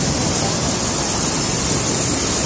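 Heavy water rushing at a waterfall near Tungareshwar temple, a loud, steady broadband roar that fills the whole stretch without a break and sounds close by.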